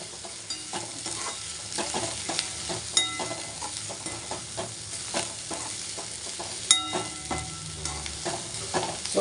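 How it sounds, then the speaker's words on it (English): Leafy vegetables sauteed in a little oil over a low flame, with soft sizzling and repeated scraping stirs of a spatula against the pan, fairly close and with no talking. "Saute this well till the leaves are wilted."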